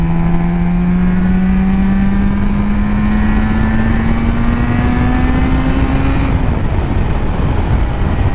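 Suzuki RG500 two-stroke motorcycle fitted with Nikon exhausts, ridden on the road: a loud, steady engine drone that rises slowly in pitch as it pulls, then fades into wind rush near the end.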